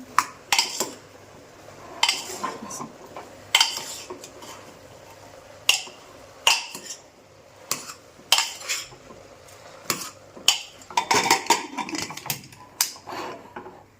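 A spoon scrapes and clanks against a pot while turmeric and salt are stirred into masala for pav bhaji, producing irregular metallic knocks and scrapes at close range over a soft background, with no talk.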